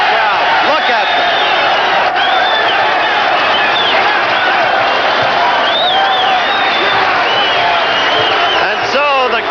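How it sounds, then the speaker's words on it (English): Large boxing crowd in a Las Vegas arena roaring and cheering continuously after a fight ends, with whoops and shouts rising over the dense, sustained noise and an announcer's voice talking over it. "Listen to this crowd."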